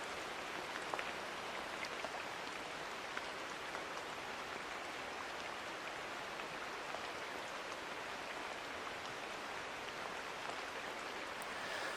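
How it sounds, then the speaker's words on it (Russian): A homemade rainstick gives a steady, even patter like falling rain, a soft continuous hiss of tiny pellets cascading with no pauses. "Посох дождя превосходно имитирует звук падающего дождя"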